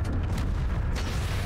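An RPG explosion in GTA, a heavy low boom that fills the whole moment with a dense rumble and steady loud level, no talk over it.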